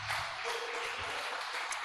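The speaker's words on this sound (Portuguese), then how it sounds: "Vamos aplaudir o Senhor Jesus." Congregation applauding in a church worship service, a steady even wash of clapping from many hands, fairly quiet and distant, with no voices over it.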